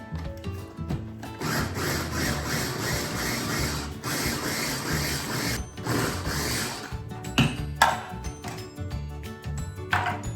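A food processor pulses spinach to chop it finely, making a continuous whirring, rattling motor hum in repeated bursts with brief breaks, close and moderately loud.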